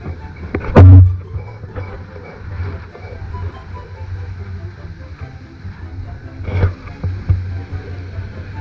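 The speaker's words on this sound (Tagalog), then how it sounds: "Yan ang magiging bangka natin." A large boat out on the water for island hopping, with a low steady engine-like rumble and lapping water throughout, a loud bump near the start and another knock later, with a voice briefly heard.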